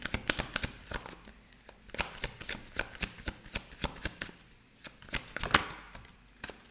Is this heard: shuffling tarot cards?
yes